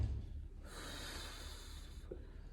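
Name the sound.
exhaling breath during a Pilates core exercise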